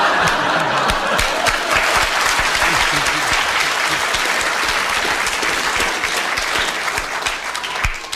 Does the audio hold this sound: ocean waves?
no